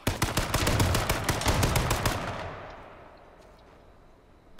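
Rapid turret gunfire in a fast-paced multiplayer shooter game, a dense, loud stream of shots for about two seconds that then stops, leaving a fading echo and faint background noise.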